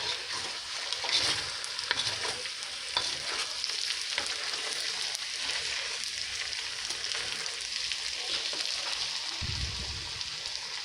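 Potatoes and onions fry in a pan with a steady loud sizzle, crackling throughout, while a utensil turns them now and then and a brief low thump comes near the end.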